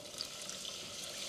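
Milk and chicken broth poured quickly into a pot on the stove, a steady soft liquid splashing and trickling that runs unbroken throughout, fairly quiet and close, with no talking.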